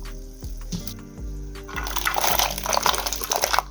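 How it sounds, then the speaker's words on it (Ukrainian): Vegetables tipped into a pot of boiling water for Cossack-style catfish soup, with a few soft knocks followed by steady bubbling and splashing that grows louder and busier toward the end, close and without talk. "Киплячу воду я відправляю всі овочі."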